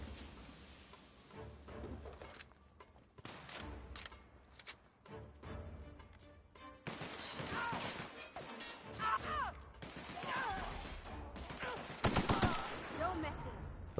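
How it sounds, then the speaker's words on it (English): Rifle gunfire in the video game The Outer Worlds, rapid bursts of shots and sharp cracks in irregular clusters, fairly faint, mixed with impacts and background game noise. "I gotta test out my new rifle"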